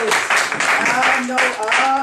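A meeting audience breaks into dense, loud applause at a table topics session, a steady wash of clapping that swells and dips, with a voice talking over part of it.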